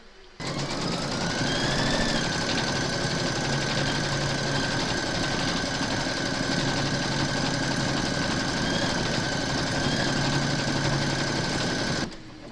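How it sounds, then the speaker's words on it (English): Embroidery machine stitching stipple quilting on an in-the-hoop notebook cover, a fast, steady mechanical rattle with a whining motor tone. It runs close and continuous with no talk. "Load your thread colour for the stipple quilting into your machine, and then you're going to stitch round number 4."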